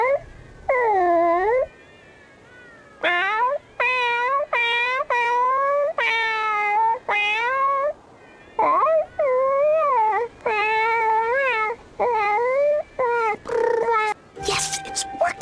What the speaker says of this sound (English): the cat girl who works for the Kaiser and her network of feline spies